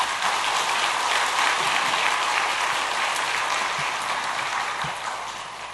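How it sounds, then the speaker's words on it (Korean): Steady, dense applause from a church congregation at a Sunday afternoon worship service, sustained and evenly loud throughout, then tapering slightly near the end, with no voices over it. "박수 한번 드리겠습니다."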